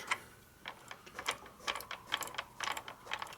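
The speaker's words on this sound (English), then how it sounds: "your ratchet gear is supposed to have a little ball engaged and that keeps that from rotating on there" The kick-start ratchet gear of a 1941 Harley-Davidson 74ci Knucklehead makes a run of close, quiet metallic clicks and ticks in irregular bursts, with no talk over them.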